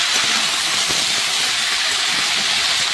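Vegetables frying in a pan, a loud, continuous, even sizzle with a dense hiss throughout.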